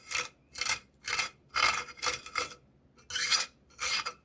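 Natural pigment being ground by hand into a binding medium for homemade watercolor paint, giving eight rhythmic gritty rasping strokes about half a second apart, close and moderately loud with no talking.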